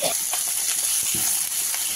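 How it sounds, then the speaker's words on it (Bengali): Koi fish frying in oil in a home kitchen, giving a steady, close hiss and sizzle that runs the whole time, with small pops and crackles on top. "লাল লাল করে সব মাছগুলো এইভাবে ভেজে নেব।"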